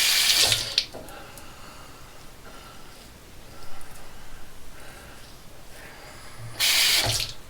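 Tap water running to wet an alum block after a shave: brief bursts of splashing flow, one at the start and a louder one near the end, with quiet handling noises between.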